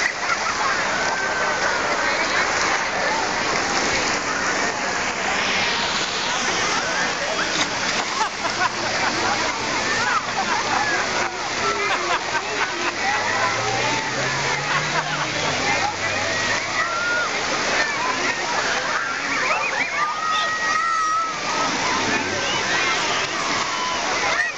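A person swims in a pool near a water slide, with continuous splashing and sloshing water throughout and voices in the background.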